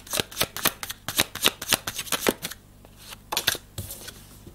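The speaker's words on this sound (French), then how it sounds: "Tu peux me donner une troisième carte, Michael, s'il te plaît." Tarot cards are shuffled and laid down in a rapid series of crisp, close riffling snaps, pausing briefly before a few final flicks, with no talking.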